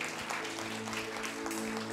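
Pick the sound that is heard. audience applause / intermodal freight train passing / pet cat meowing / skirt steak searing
audience applause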